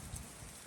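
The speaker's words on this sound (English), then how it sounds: "So we're starting to finally see rain" Rain falls steadily during a Hurricane Ian tropical storm in Tampa, giving an even broadband wash of patter close by with no talk and no clear breaks.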